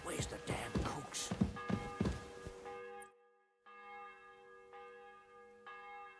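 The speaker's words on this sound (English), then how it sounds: "The bell's ringing for hands the 5th time." A church bell tolls in the medieval role-playing game Kingdom Come: Deliverance II, ringing out clearly with long sustained overtones after footsteps and shuffling noises, then striking again in slow succession.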